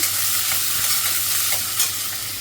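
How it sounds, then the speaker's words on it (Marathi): Onion sautéing in a pan with garlic, a dense, loud continuous sizzle with brief stirring scrapes, close up and with no talking. "कांदा परतून घेते चांगला"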